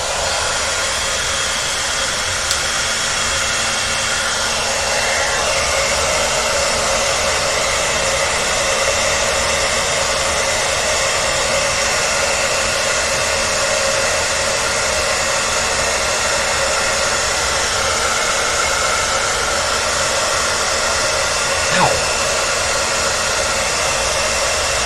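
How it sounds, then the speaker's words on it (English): A hair dryer blows continuously at steady volume to dry paint, a constant airy whoosh with a faint whine, running alone without pause. "I am going to use the hair dryer on here so I can get this paint going."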